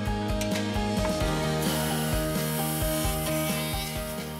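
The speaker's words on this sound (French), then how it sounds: "La fraiseuse effectue les trous pour la serrure, le cylindre et la poignée dans le profilé de l'ouvrant." An aluminium window milling machine cuts lock, cylinder and handle holes into a sliding sash profile, giving a steady loud grinding, rasping whine with rhythmic pulses from the cutter, running continuously with no talk.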